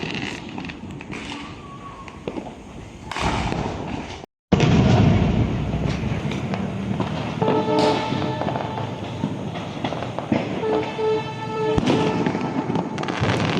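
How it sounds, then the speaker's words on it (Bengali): Diwali firecrackers and bombs going off during Kali Puja celebrations: loud, repeated booming bursts and crackles, some near and some distant, echoing continuously across the neighbourhood. "দেখেছো কিরকম বোমগুলো দিচ্ছে"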